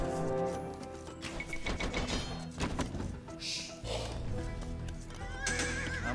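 In Age of Empires II DE, horses neigh and whinny loudly, mixed with quick clip-clopping hooves and short clattering game effects, with a second whinny rising near the end.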